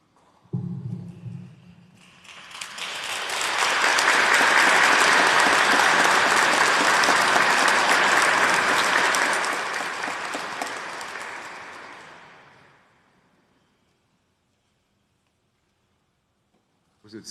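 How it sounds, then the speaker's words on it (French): A church congregation breaks into applause after a homily: a brief voice at the start, then dense clapping that swells, holds steady for several seconds and fades out into silence. "C'est la première fois que les gens en applaudissent mon homélie."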